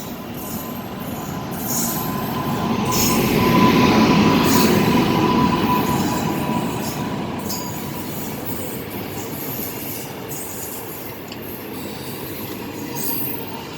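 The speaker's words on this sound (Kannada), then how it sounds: "ಇದು ಟ್ರೈನ್ ಅರೈವ್ ಆಗ್ತಾ ಇದೆ" A WAP7 electric locomotive hauling the Vishwamanava Express rolls into Harihar station, a loud rumbling rush of wheels and coaches that swells, peaks and slowly eases, with squealing wheels and a steady tonal whine over the clatter.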